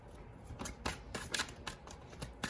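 Tarot cards are shuffled and drawn, giving a quiet, close string of crisp riffles and slaps that come in irregular bursts with short pauses between them.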